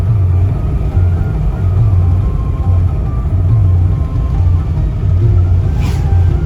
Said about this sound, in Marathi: रप्पारप गाडी चालत आहे रस्त्यावर.